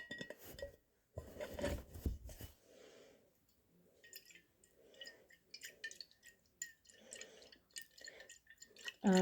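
Lidded glass vessel swirled by hand during a chemistry reaction, intermittent light glassy clinks and sloshing rattles, quiet and close, with gaps of near silence and no talk.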